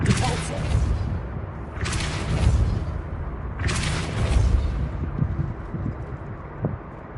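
Depulso force-push spell cast in the video game Hogwarts Legacy: three loud, airy whooshing blasts about two seconds apart, each with a booming low thump, over a steady rumbling game ambience.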